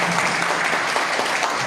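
Gathered villagers clap at a meeting over Bhavanapadu port displacement demands in Srikakulam district, a dense, sustained round of applause from a crowd filling the whole stretch.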